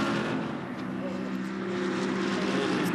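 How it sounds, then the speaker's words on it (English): An Aston Martin race car in Sydney qualifying drones at speed, a loud continuous engine roar sustained throughout beneath race commentary. "Hayden Cooper pushing on in the Aston Martin"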